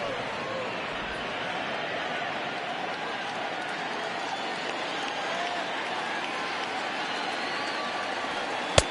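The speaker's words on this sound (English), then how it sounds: "Now this small but vocal crowd come to their feet" A small but vocal baseball crowd rises and cheers in a steady, sustained roar with applause, heard from a distance throughout with no break.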